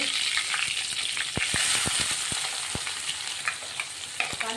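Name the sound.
cumin and curry leaves sizzling in hot oil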